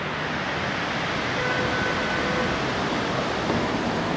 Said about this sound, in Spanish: Escuchen el sonido del mar.